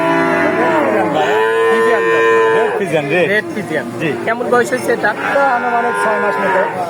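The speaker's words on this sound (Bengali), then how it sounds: "তো শুরুতে যে গরুটা আমরা দেখতে পাচ্ছি" A heifer at a village cattle market gives long, loud, close moos that rise and fall, with people talking over and between the calls.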